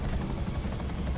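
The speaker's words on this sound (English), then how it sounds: "these choppers that are going to come in and absolutely light you up" Helicopter rotors drone steadily in GTA Online as attack choppers close in, a dense low-pitched thrum that fills the whole short stretch without any voices.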